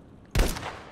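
Gunfire in Battlefield V: Firestorm, a single loud, close shot with a heavy low-end punch and a short decaying tail, alone without talk.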